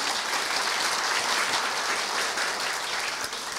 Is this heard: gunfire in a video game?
no